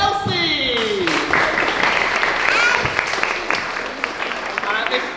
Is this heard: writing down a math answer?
no